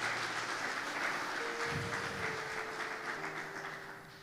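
A church congregation applauding, a dense steady clatter of many hands that carries on throughout at even loudness, with a faint low steady tone under it.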